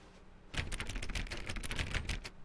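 Rapid keyboard typing in The Stanley Parable office, a dense run of clicky keystrokes starting abruptly and continuing steadily, close and fairly loud, with no talking.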